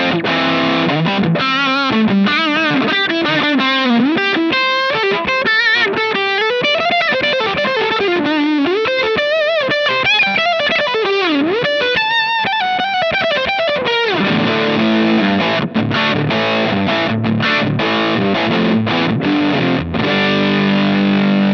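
Electric guitar played through a Fuzzrocious Cattail fuzz pedal into a PRS MT-15 amp with mids pushed and bass cut, giving a loud, continuous saturated fuzz tone. The riffs and sustained notes run alone with no gate.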